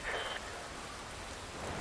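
Steady rain falls in the Metal Gear Rising Revengeance video game, a dense even hiss of drops on surfaces with no voices and no clear thunder.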